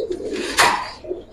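Pigeons in a main display cage coo softly, a low murmuring call with a brief louder flutter-like burst in the middle, close by and otherwise quiet.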